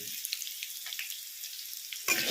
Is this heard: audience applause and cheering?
no